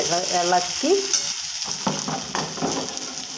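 A spoon stirs coriander powder through sizzling chickpea curry masala in a pan, making a close, loud fry with scraping strokes and a few metallic clinks, and no talking.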